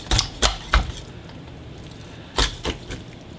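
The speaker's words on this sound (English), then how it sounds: "you just got to cut through the ribs here." Raw chicken ribs give way under a sharp knife in a sequence of crisp cracking snaps, three in quick succession, a pause, then three more, close and fairly loud with no talking.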